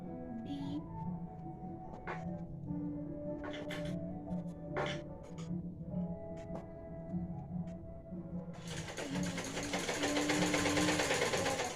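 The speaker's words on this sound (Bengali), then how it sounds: "ওর কাছে বসে আমি ওই ব্লাউজটাই সেলাই করছি" Electric sewing machine stitching a blouse at home in the evening, its steady motor whir running under other household noise, with a louder, denser burst of stitching near the end.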